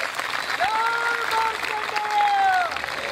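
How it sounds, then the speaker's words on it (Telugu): An audience at a Sri Rama Katha religious discourse in Solapur claps loudly for a sage, a dense sustained burst of applause under a held sung or chanted voice. "మన ఋషి కోసం మనం చప్పట్లు కొట్టుకోమా గట్టిగా?"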